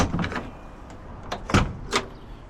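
A 1968 Chevrolet C10 pickup with a 496ci stroker engine has its door opened, giving a few quiet, close clicks and latch knocks spread over two seconds, the sharpest near the end, against a faint background.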